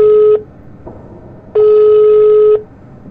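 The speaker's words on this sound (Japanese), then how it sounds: "ここで、電話を鳴らすんだ" Telephone ringing in the Evil Nun horror video game: two electronic rings, a short one at the start and a longer one a second later, loud and clear with no talk over them.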